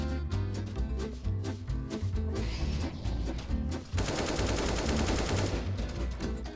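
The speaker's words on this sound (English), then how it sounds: "God, the AK sounds so nice." AK rifle firing in Counter-Strike, rapid bursts of automatic gunfire close and loud, with a dense sustained spray in the second half over faint background music.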